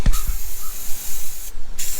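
Anti-corrosion spray hisses onto the thin aluminum intercooler of a Sea-Doo engine, a close, loud continuous burst of about a second and a half, then a short pause and another brief spurt.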